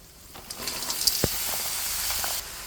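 Bitter gourd drops into hot fish oil in a pan, setting off a sudden, steady sizzling hiss with a few light clinks of utensils.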